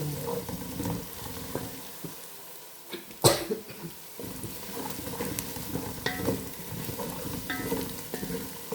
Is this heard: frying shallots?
yes